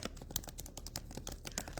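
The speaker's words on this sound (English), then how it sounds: "Can you hear me typing?" Rapid, uneven key clicks from someone typing on a keyboard, close up and steady throughout with no voices.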